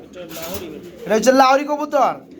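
A pair of grizzle pigeons for sale at a bird market coo in soft, throaty rolls close by, mixed in with someone talking.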